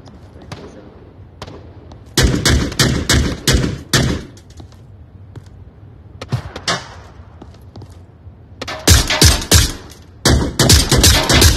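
Rapid bursts of automatic gunfire from a player's weapon in the VR shooter Onward, two loud volleys of closely spaced shots separated by quieter stretches with scattered single pops.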